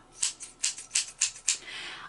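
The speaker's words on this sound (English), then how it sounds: "These are fabric scissors, and they're not just fabric scissors. They're pinking shears." Pinking shears snip through fabric in about six quick, crisp cuts at an even rhythm, heard up close, ending with a softer rustle of cloth.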